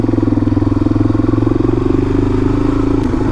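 Suzuki DRZ400 dual-sport motorcycle fitted with an FCR39 clone carburetor, idling steadily right after a cold start, a close, loud, even low thumping pulse with a slightly lumpy rhythm throughout.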